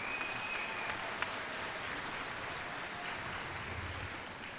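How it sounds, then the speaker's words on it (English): University graduates at a spring commencement applaud their faculty and staff, a steady wash of distant clapping from a large crowd that holds evenly throughout. "Graduates, please give a round of applause and thanks to the faculty and staff of the university"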